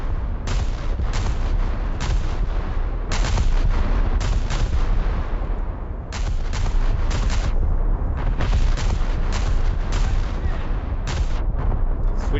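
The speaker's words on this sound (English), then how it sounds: "Let's go ripple fire, because this thing just doesn't stop shooting." Naval guns ripple firing continuously from a boat in War Thunder, including 6-inch guns, a dense relentless barrage of loud booming shots that overlap with barely a pause.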